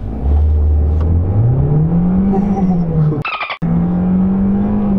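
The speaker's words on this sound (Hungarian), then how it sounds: "mennyi idő alatt van 100-on, úgyhogy ezzel az A-mercivel is ezt kipróbáljuk" A 2019 Mercedes A-Class engine revs hard from a standstill, its note climbing steadily as it accelerates toward 100 km/h, with a brief gap at a gear change before the engine pulls on again, loud and close.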